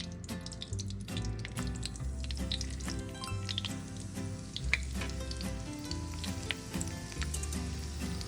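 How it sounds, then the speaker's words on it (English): Cut corn tortilla pieces fry in hot oil with a steady, dense sizzle and crackle, close and continuous, with occasional stirring clinks and no talking. "Get your oil nice and hot. Next step is dump your chips in there."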